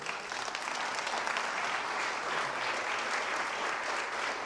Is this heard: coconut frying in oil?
no